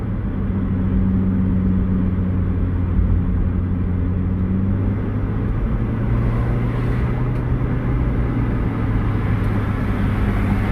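A 2006 Ford Escape Hybrid with a low-battery fault driving on the road, captured from inside as a steady, loud road rumble and low engine drone that holds evenly throughout.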